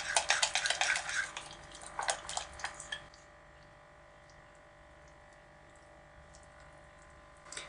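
A liquid filling is poured over broccoli in a baking dish for a diet casserole with cheese, making a brief splashy, gurgling pour for about three seconds, then near silence.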